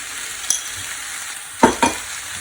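Stir-frying in a pan with chili crisp added, a steady soft sizzle broken by one light tap and two louder clatters of a utensil against the pan near the end.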